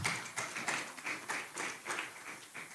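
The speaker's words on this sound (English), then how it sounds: "Please clap for yourselves" A live-event audience of business attendees claps for themselves, a crowd of hands beating in a loose rhythm with regular swells, moderately close and continuous throughout.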